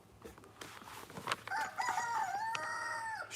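A rooster crows once, close and loud, a long wavering cock-a-doodle-doo after a few scattered clucks and rustles from the yard.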